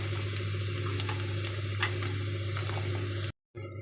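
Garlic and ginger fry steadily in a pan for a Kottayam-style shark curry with kudampuli, a continuous close sizzle with scattered crackles and a low hum, briefly cut off near the end.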